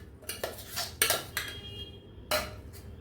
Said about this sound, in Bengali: এবার এটাকে আমি একটা ডিশের মধ্যে ঢেলে নেব।